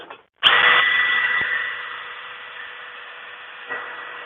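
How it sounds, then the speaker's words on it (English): A power buffing wheel spins up with a sudden whine and a bolt pressed against it, the high steady hum fading as it runs and a brief grinding contact near the end, close and loud. "Let's give it a buffing."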